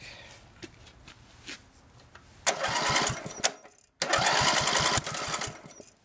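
A small engine on a homemade wood splitter is being started. Quiet fiddling and clicks lead into two loud, rough bursts of the engine catching and running close by, split by a sudden brief cutout.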